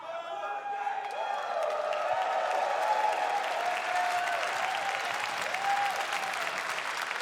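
A large crowd applauds and cheers at an esports finals in a packed arena, sustained clapping with whoops rising through the middle and a voice talking over the roar.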